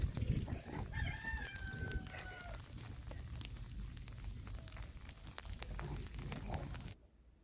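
Chickens outdoors on a rainy day in freezing Texas weather: a rooster crows once early on, with clucking over the steady hiss of rain. The sounds are fairly near, and there is no talk.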